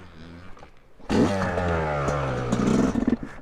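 A two-stroke 250 dirt bike fires up on its electric starter, a brief starter whir giving way to a sudden loud, rising, buzzing engine idle with rattly revving, close by.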